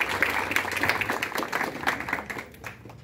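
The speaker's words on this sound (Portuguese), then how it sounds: "a salva de palmas" A crowd at an evangelism gathering in a stadium applauds, with a quiet, steady patter of many hands clapping that thins out toward the end.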